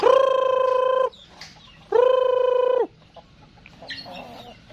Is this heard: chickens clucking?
yes